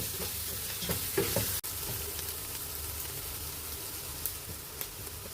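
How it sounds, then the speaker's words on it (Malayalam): Masala with turmeric powder sizzles and fries in a pan with a steady low crackle, punctuated by a few soft stirring scrapes and one sharp knock. "മഞ്ഞൾ പൊടി കൂടി ഇട്ടിട്ട് നന്നായിട്ടൊന്ന് മൂത്ത് വരട്ടെ"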